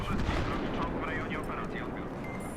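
Dense, continuous weapon fire rumbles in the video game Battlefield 3, a thick wash of shots and booms filling the whole moment while someone talks over it.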